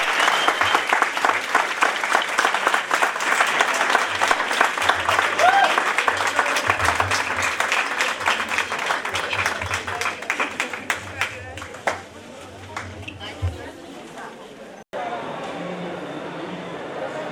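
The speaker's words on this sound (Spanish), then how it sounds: "Les pido un fuerte aplauso" An audience at a book presentation for Andrea Chapela's 'El cuento' at the Urano stand of the FIL Guadalajara book fair applauds steadily for about fifteen seconds, dense and close, then thins into scattered claps and murmuring crowd noise.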